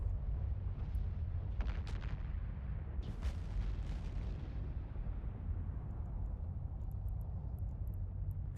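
Ship guns firing in the space game EVE Online, several sharp shots in the first four seconds over a heavy low rumble, then fading into a steady drone with faint high blips.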